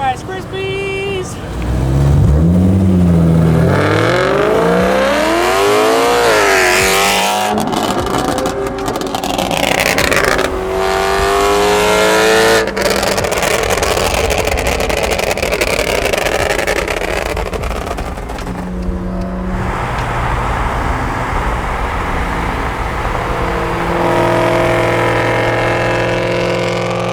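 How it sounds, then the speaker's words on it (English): A tuned BMW E9X M3 with an Alpine Motorsport Stage 2 tune crackles and pops through its exhaust while the engine revs and falls off repeatedly, heard from inside the car with people talking over it. "That first set of burbles that happened, it was like, I kid you not, it was a good 40 seconds of burbles"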